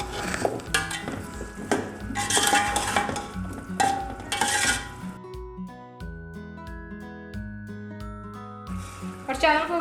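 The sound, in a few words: potatoes being fried and stirred with masala in a pot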